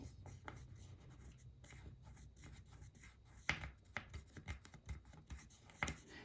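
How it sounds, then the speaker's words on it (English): Pencil tracing along a template while making a soft-soldered moon pendant, faint close scratchy strokes in short irregular bursts with occasional taps, very quiet throughout. "I'm just going to run this pencil"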